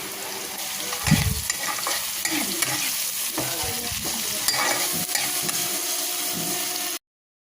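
Vegetables for hakka noodles stir-fry in a hot pan, a loud, constant sizzle with scraping and clanking strokes of a spatula throughout before the sound cuts off abruptly.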